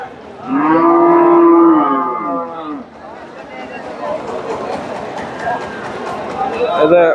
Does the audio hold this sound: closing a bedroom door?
no